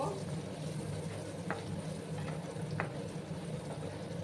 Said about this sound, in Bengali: বেশি সময় লাগবে না আলুগুলো ভাজতে